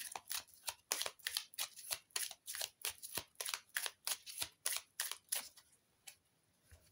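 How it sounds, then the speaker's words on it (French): Tarot cards are shuffled by hand in a rapid run of crisp riffling bursts, about two or three per second, close and clear with no talk, then stopping near the end. "Je prends 3 cartes. Donc il se mélange super bien."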